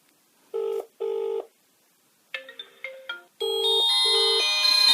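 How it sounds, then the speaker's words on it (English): An incoming-call ringtone sounds from a Gear Best RWatch M26 smartwatch: two short beeping bursts, a brief melodic phrase, then a louder sustained ringing tune, close and clear with no speech. "So the ringtone is very annoying, obviously, so you can change that so it just vibrates."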